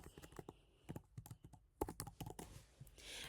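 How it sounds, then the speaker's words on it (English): Quick, irregular clicks of keys on a computer keyboard come in short bursts, close by and fairly faint, with no talking over them. "I can type, I promise."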